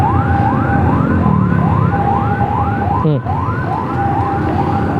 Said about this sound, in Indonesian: Bahaya, jangan mepet ambulan.